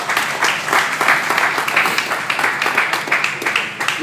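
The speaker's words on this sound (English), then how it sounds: "A round of applause for them." Audience applause fills a press conference after the 2013 Auto GP Race 1 at Donington, a dense, steady burst of many hands clapping close by for about four seconds.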